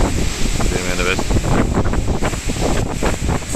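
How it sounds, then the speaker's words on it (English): Strong stormy wind roars loud and steady past small 48V and 300W wind turbines, a constant buffeting rush with gusty surges throughout. "So I'll just show you what wind we're getting today now."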